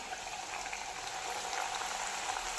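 Chakli dough frying in hot oil at medium flame gives a faint, even bubbling fizz that runs unbroken and quiet throughout.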